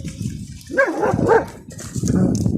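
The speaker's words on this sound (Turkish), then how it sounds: "Bir kemik için, bir lokma ekmek için birbirlerini dövüyorlar burada." Abandoned dogs in a forest scuffle over a bone, giving loud, close growling barks and a rough, whining snarl in a couple of quick bursts.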